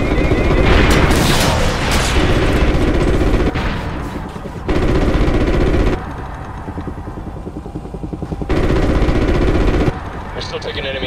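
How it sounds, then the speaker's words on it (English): Enemy anti-aircraft fire in the Call of Duty Ghosts game, heard as loud, sustained bursts of rapid gunfire and booms with engine rumble underneath, and pilots' radio voices talking over the barrage. "We're still taking enemy AA fire from behind the smokestacks"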